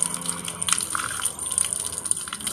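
Water gushes and splashes as a young stud dog is rinsed during a bath, a continuous close pouring with uneven surges and no talking over it.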